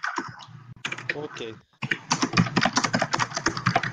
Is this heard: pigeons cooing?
no